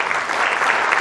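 Applause at an academy's anniversary global awards ceremony, a brief, loud, dense burst of many hands clapping together.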